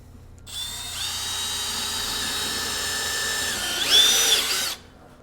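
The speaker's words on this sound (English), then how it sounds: "Next, we're going to drill a hole." A power drill whirs steadily for about four seconds while drilling a hole in metal for a metal railing, its whine rising in pitch near the end before it stops abruptly. No one speaks.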